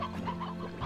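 A chicken in the Slime Rancher video game gives a quick series of soft, close clucks in one brief burst.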